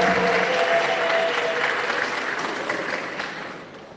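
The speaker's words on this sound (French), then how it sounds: "Vous voudrez bien applaudir pour la fille." Applause from a church congregation at a Sunday Mass, a broad steady wash of clapping that holds loud and then gradually fades toward the end.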